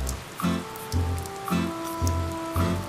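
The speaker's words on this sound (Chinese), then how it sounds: "下这么大雨啊，没带伞吧？" Heavy rain pours down steadily, with a close, dense hiss that swells in regular pulses about every half second; no one speaks.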